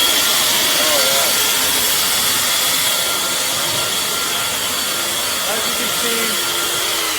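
A Yardworks 48V brushless AeroForce leaf blower running on turbo, a loud steady rushing roar of air that holds for the whole stretch, with someone talking briefly over it.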